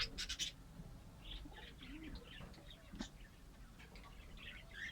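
Small birds chirping in an aviary where canaries are kept, with faint, scattered high tweets and short calls spread across the stretch and a soft background hum.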